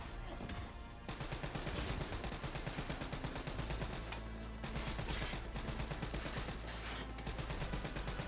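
Rapid automatic gunfire from a lightly recoiling gun in Call of Duty: Black Ops III, loud and close, rattling almost nonstop for several seconds over game music and ambience.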